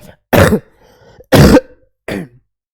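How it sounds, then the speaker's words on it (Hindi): Three separate coughs, loud and close, with short pauses between them; the last cough is a bit shorter and quieter. "इसीलिए खांसी आता है बार बार, उसको इग्नोर कीजिए"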